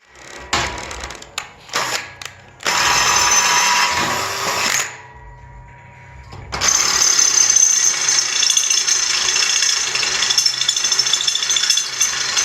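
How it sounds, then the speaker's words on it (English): A power drill bores holes in a minibike part, its bursts of whining and rattling running loud and close, stopping for a moment, then starting again and holding steady to the end. "my dad's gonna go and drill the holes right now for this thing"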